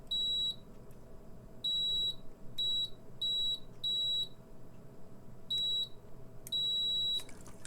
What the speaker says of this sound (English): if you hear the beep, it's the continuity